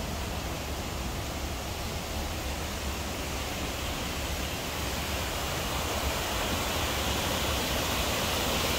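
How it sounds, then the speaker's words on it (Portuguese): Rhine Falls waterfall in Switzerland, heard as a steady, dense roar of rushing water that stays constant and loud throughout with no voices. "Tô me aproximando aqui da cachoeira aqui."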